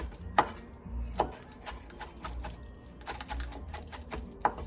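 Knife chopping fresh parsley on a cutting board for baked shrimp scampi, a few sharp, separate taps spaced irregularly over low kitchen background noise.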